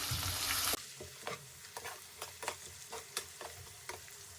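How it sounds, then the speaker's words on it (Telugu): Onions, green chillies and curry leaves frying in a pan for cabbage moong dal fry, with a loud hiss at the start, then a quieter sizzle under a series of spatula scrapes and taps. "ఆనియన్స్ కొంచెం ఎర్రగా అయ్యేదాకా ఫ్రై చేసుకోండి."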